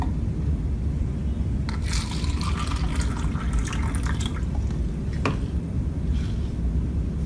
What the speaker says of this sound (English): So tomato wash with tap water.